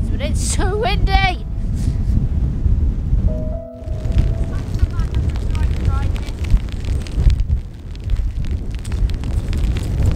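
Strong wind buffets the microphone on a stormy beach, a loud continuous roar of gusts with brief lulls, while a person speaks over it at moments.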